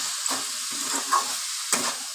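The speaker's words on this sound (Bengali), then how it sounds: "আমি কপি আলুটাকে ভাজা ভাজা করছি" Cauliflower and potato fry in a pan with a constant hiss of oil, while a spatula scrapes and stirs in several bursts. The sounds are close and there is no talking.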